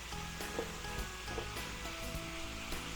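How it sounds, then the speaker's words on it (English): Wagyu ribeye beef for a Philly cheesesteak sizzling on a griddle as onions are worked in with two spatulas, a dense continuous sizzle with soft scraping and occasional clacks, close and steady. "now we mix in the onions. See why I'm using 2 spatulas?"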